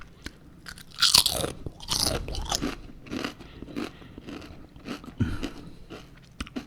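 Potato chips are eaten up close, with loud crunchy bites followed by chewing and soft rustling, and no talking.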